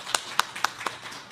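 Four or five sparse, separate claps at a community lifelong-learning forum's close, slightly uneven in rhythm, fairly quiet against a soft room background.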